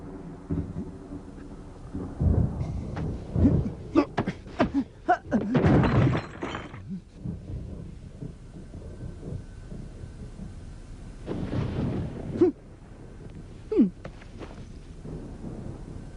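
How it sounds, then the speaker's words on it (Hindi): Thunder and rain at night in a horror film scene: heavy booming crashes and rumbling rolls come in several bursts over a steady background of rain, with quieter stretches in between. "अंधेरा हो गया और साथ ही साथ बारिश भी हो रही है।"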